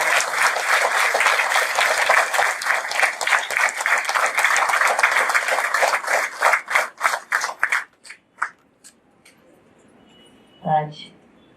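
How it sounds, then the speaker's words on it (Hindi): An audience at a birthday and Christmas celebration claps loudly and steadily, dense applause that thins into a few scattered claps and stops, followed by a brief voice. "इतनी जोर से ताली बजाओ"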